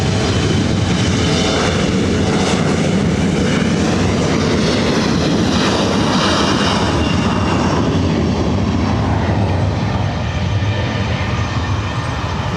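A Southwest Airlines Boeing 737 MAX 8 jet bound for St. Louis at LAX gives a loud, steady, close engine roar with no pauses, easing slightly toward the end.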